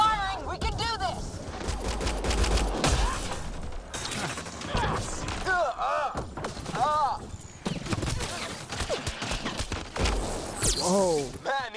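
Gunfire crackles through a firefight in the video game Mass Effect: Andromeda, with repeated bursts and impacts over a long stretch, while characters shout and talk throughout.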